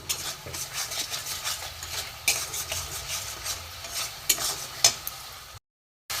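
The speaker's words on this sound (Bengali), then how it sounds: "যতক্ষণ না তেল ছাড়ে ততক্ষণ একটু কষিয়ে নেব।" Ground chilli, cumin, coriander and garam masala sizzling in hot oil for a pangas fish curry, with steady frying crackle, occasional stirring scrapes and utensil clinks close by, no talk, ending in brief silence.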